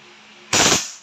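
A WE Hi-Capa 5.1K airsoft pistol fires one short, loud full-auto burst of rapid rattling shots, close by, lasting about a quarter second before fading.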